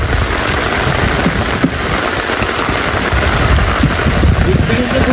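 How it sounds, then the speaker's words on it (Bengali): Heavy rain pours down steadily during a Sundarbans fishing trip, loud and continuous with a possible rumble of thunder, while people talk beneath the downpour. "বৃষ্টি কিন্তু খুব জোরে হচ্ছে।"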